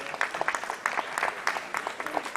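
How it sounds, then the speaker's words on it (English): Audience applause at a national eye donation fortnight event, a moderate patter of many hands clapping in an indoor hall, with faint voices underneath. "Please give him a huge round of applause."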